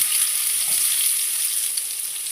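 Chopped onions and cumin seeds fry in hot oil, giving off a loud, steady, bright sizzle that stays even throughout with no talking.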